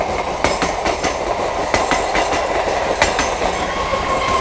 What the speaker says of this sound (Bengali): এদিকে ট্রেন যাচ্ছে, এটা ডানকুনি যাচ্ছে